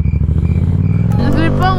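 A Yamaha MT-07 motorcycle pulls away from a standstill, its engine putting out a close, steady pulsing throb that rises in pitch as it gets moving, with the rider speaking over it.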